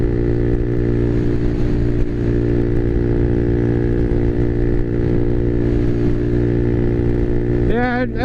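A Honda Navi motorcycle engine fitted with a Yoshimura off-road exhaust, idling loud and close with a steady, throbbing low drone throughout, and a short rising whine at the very end.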